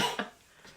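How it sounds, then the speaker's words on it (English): A single short, close cough followed by a fainter second one, with a faint clink of dishes in the background. "can't wait to get rid of this damn cough"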